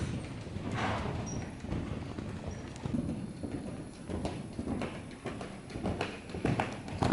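Horse hooves cantering in an arena, a rapid, steady clip-clop rhythm close by, riding the continuous rumble of movement and arena noise throughout.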